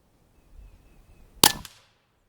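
A single sharp crack from a Umarex Origin 25 air rifle firing, close and loud, with a brief metallic ring trailing off after a quiet lead-in.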